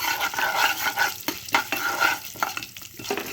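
Mustard seeds, cumin, lentils and dried chillies frying in hot oil for a tamarind-leaf bean and tomato curry, a loud steady sizzle with crackles and a spoon stirring and scraping the pan, close up.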